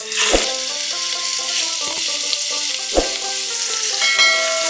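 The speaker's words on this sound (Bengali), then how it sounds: "তেল গরম হয়ে গেছে, এক এক করে মাছগুলো ছেড়ে" Hilsa fish pieces sizzle loudly as they are laid one by one into hot oil, a dense continuous frying hiss broken by a few sharp metallic clinks of a utensil against the pan.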